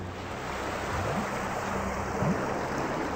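Water flowing in the video game Submachine 8, a faint, steady wash of noise with a couple of brief low tonal swells, heard alone.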